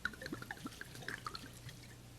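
Red wine poured into a casserole, a run of small glugs and splashing drips heard close but quietly, fairly steady for a couple of seconds over a faint room hum, with no talking.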